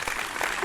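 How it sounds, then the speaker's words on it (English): A canned applause sound effect fired from a soundboard button, a short burst of crowd clapping that runs continuously through the whole fraction of a second heard, with no voices over it. "Did you cue up that applause?"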